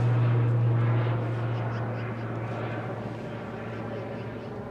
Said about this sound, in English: we're going to get some departures for you. Now this is runway 33 they're switching to